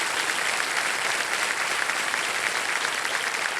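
A studio audience on the Hindi game show Kaun Banega Crorepati claps continuously, dense even applause filling the room from start to end without a break.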